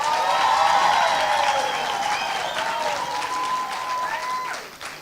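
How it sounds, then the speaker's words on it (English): An indoor audience at a World Intellectual Property Day celebration claps in steady, dense applause that stays full and fades slightly near the end, with no talking over it. "Let's give her a round of applause."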